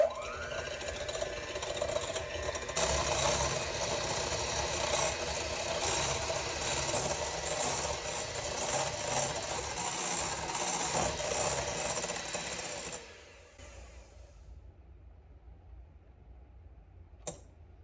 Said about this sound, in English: we're gonna beat to form stiff peaks